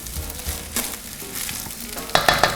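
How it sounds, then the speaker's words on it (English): Fried rice with vegetables is stirred and tossed in a hot pan, giving a steady close sizzle broken by several scraping strokes of a spatula, with a quick run of sharper clinks near the end. "you want to break up the lumps and stir it properly so that each grain is nicely coated in the vegetable mix"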